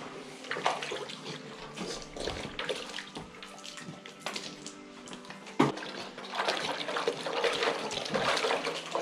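A horse splashing and sloshing water while being made to drink, with continuous close wet splashing and pouring sounds and a few sharper knocks over about nine seconds.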